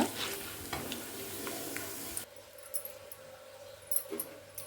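Urad dal roasting in a pan: a soft, close sizzle with light stirring, louder at first and then quieter and sparser, with occasional scrapes.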